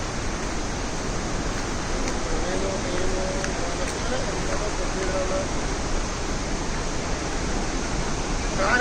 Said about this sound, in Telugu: బాహుబలి ఫాల్స్ అంటే వాటర్ ఫాల్స్